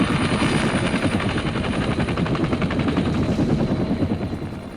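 Loud, continuous helicopter rotor thumping with a dense engine roar, steady throughout without any voices.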